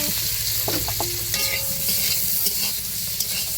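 Cauliflower and potato fry in oil in a wok, a steady sizzle broken by scraping, clattering stirring strokes, close and continuous with no talking.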